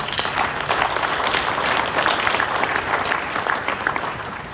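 A gala audience bursts into steady, dense applause, many hands clapping together at close range, loud and continuous for a few seconds.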